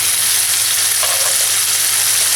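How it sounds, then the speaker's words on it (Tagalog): Beef steak and cream sizzle in a hot pan while being stirred, a constant loud frying hiss with a brief scrape of the utensil, no voices. "Haluin lang natin."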